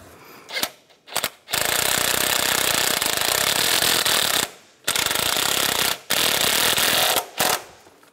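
Nut and bolts on a 2010–2016 Cadillac SRX engine are tightened during a VVT solenoid replacement, with several long bursts of loud, rapid buzzing from a power tool separated by short pauses, close up and without speech.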